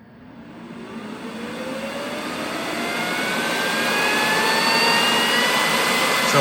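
A battery-powered air blower forces air into a CRF250 dirt bike airbox, its whine rising in pitch and loudness as it spins up, then holding a steady, loud rushing roar.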